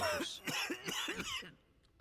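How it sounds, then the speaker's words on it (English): A video game character coughs from a cigarette, a harsh, raspy cough repeating several times in quick succession, close and fairly loud, then trailing off into quiet. "He coughs from the cigarette."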